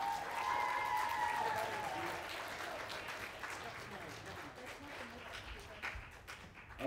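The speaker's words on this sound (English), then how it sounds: "let's give another round of applause to Cooper White" A school middle school talent show crowd gives a loud, sustained round of applause for a performer, the dense clapping filling the room before slowly thinning toward the end.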